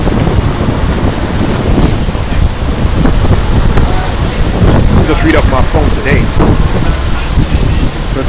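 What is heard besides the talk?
strong wind blowing into microphone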